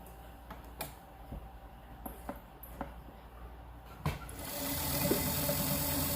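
A sewing machine stitching a fabric strip along the nose piece of a cloth face mask, a soft steady whirr broken by small clicks and a few sharp knocks, rising slightly louder toward the end.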